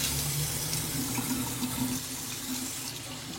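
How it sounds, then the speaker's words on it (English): Water runs steadily from a bathroom tap as someone rinses off after a shave, a continuous close splashing rush with no pauses. "So, just gonna rinse this off real quick."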